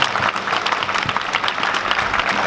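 A church congregation claps loudly for its pastors, a close, busy spatter of hands that holds steady throughout.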